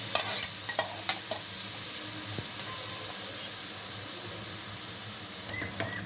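Boiled dal stirred into an egg cauliflower curry in a pan, a few sharp spoon scrapes and clinks at the start, then a soft, steady low sizzle and bubbling, fairly quiet, with no talk.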